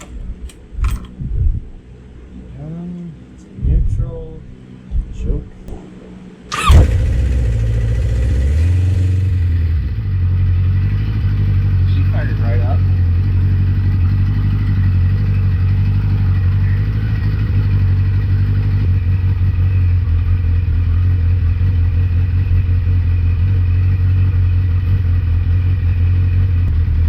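A Kawasaki Concours motorcycle, just reassembled after an oil spill, cranks over with a few brief clatters, then catches with a sudden loud start and settles into a steady, close idle that runs unbroken to the end.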